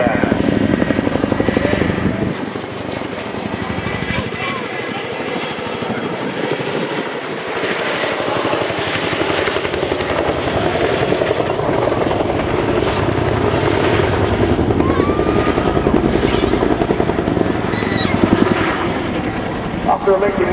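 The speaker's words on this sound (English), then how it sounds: "the crew are now going to demonstrate another unique capability of this helicopter. Because of the tandem rotor design" A tandem rotor helicopter flies a display routine at the Royal International Air Tattoo, its heavy rotor thrum and engine roar steady and loud throughout while a commentator talks over the public address.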